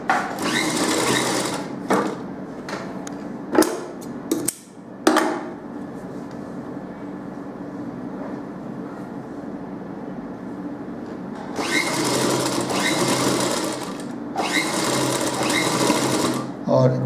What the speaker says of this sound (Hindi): जिस जगह में मैंने सिलाई दिया है उसका लेफ्ट में स्टिच देंगे हम हमेशा